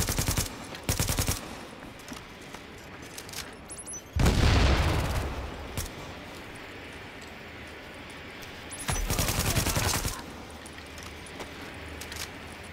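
Automatic gunfire in the video game Tom Clancy's The Division, several sharp bursts of rapid shots with one heavier boom in the middle, loud against a quiet background.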